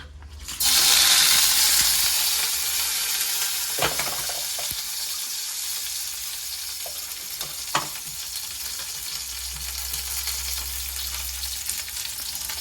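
Chopped onion dropped into hot oil, a loud sudden sizzle that bursts in and then settles into a steady crackling fry, with a couple of sharp utensil clinks along the way.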